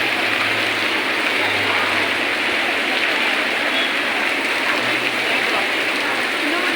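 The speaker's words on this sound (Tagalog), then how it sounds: "All these are waterfalls." Waterfalls at Sentosa, Singapore pour into pools with a steady, dense rush of water that holds at an even level for the whole stretch, close and fairly loud, with no clear voices.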